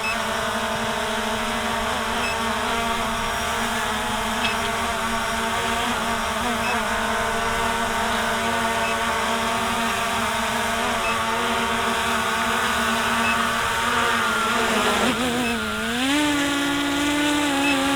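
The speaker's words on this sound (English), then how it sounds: "did you see that it was still spinning one of the motors?" Hubsan Zino 2 drone with its motors whirring in a steady, loud, close buzz that holds throughout, with a pitch dip and rise near the end as one motor keeps spinning.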